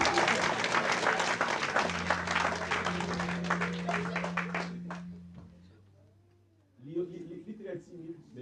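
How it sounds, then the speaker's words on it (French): Audience applause fills the first half, dense and lively clapping that fades away, followed by a voice speaking after the room quiets. "applaudissez-vous aussi."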